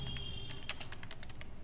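Someone types HTML code on a computer keyboard in a quick run of light, clicking keystrokes, close and clear with no talk.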